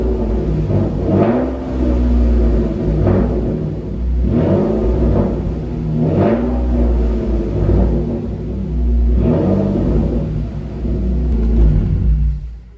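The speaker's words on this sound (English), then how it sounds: "This exhaust, it just sounds too good." A swapped seventh-generation Nissan Maxima exhaust blips through four or five evenly spaced revs over a steady idle rumble, each rev briefly rising and falling, loud and close, with no talking.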